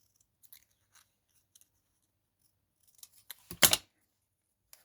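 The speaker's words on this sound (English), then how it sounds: "I'm going to make this into a fishtail, but I'm going to cut half of it away" Scissors snip a card strip into a fishtail, with a few faint scattered clicks followed by a cluster of louder, close crisp cuts near the end, including one sharp, prominent snip.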